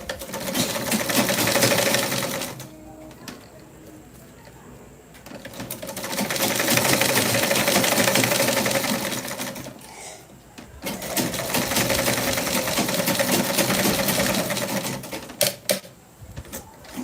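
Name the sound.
sewing machine stitching elastic band on white garment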